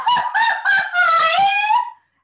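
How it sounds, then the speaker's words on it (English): A traditional mariachi grito performed solo by one voice: a loud, close, high-pitched yelling cry in several quick bursts that rise and waver, ending in a long sustained wail before cutting off. "And that is the traditional mariachi grito."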